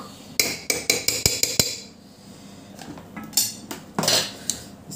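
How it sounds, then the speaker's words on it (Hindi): A metal spoon clinks and scrapes against a pot, quick sharp taps at first and then irregular clatter, while cream is stirred into ridge gourd curry in a home kitchen. "इसको कर देते हैं मिक्स।"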